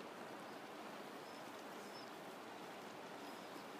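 The Verdon river rushes strongly after the Castillon dam gates are opened, a steady, dense broadband roar of fast-flowing water that holds constant throughout without voices.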